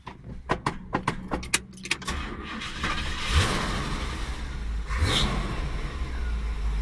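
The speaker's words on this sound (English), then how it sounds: "The engine is working perfectly." A Cadillac Fleetwood 75 engine starts after a few sharp clicks and rattles, then settles into a steady, fairly close running rumble.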